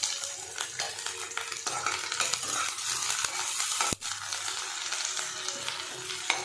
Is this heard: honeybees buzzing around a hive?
no